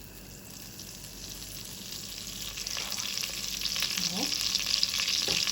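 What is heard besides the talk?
butter sizzling in a pan for Egyptian koshari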